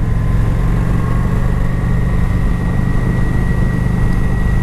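A Kawasaki Vulcan motorcycle engine runs on the road near San Diego, California, a loud steady low drone with constant rumble and wind noise throughout, no talking.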